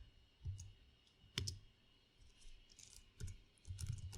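Keyboard typing in irregular bursts of clicks, fairly quiet and close, with pauses between groups of keystrokes and no talking.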